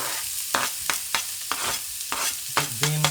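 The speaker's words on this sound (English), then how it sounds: "Once you've got that nice and hot, we're going to go in with the onions and garlic first." Onions and garlic frying in hot olive oil, a close continuous sizzle broken by regular stirring scrapes about every half second.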